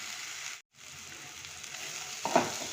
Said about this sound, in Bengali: এবার নাড়িয়ে দিচ্ছি আবার।